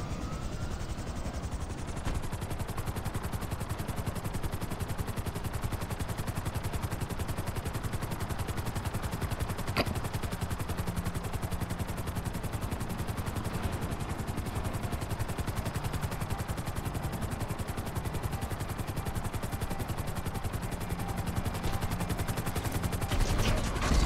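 Jets firing guns in the video game Angry Planes: a continuous rapid rattle of gunfire over a droning engine roar, sustained and fairly even in loudness, with no talk.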